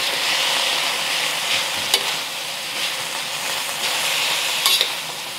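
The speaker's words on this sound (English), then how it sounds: "Stir this up a little bit." Pork and cabbage stirred in a hot frying pan, giving a steady broad sizzle with a few soft scraping clicks from the utensil, close and continuous with no voices.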